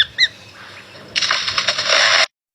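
An Australian bird imitates a chainsaw: a few short chirps, then a loud, harsh buzzing roar lasting about a second that cuts off abruptly, close by.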